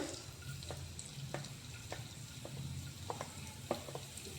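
Garlic frying in hot oil for Manchow soup, a low steady sizzle with scattered spoon taps and scrapes, fairly quiet and close with no talk.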